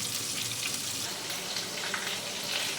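Fish fries in hot oil. The sizzle is even and continuous, a bright, hissing crackle close by with no talking over it.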